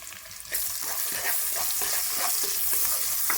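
Chopped onions and cumin seeds hit hot oil in a kadai and break into a loud, bright sizzle, with repeated scraping stirs of a spoon keeping rhythm over the steady frying hiss.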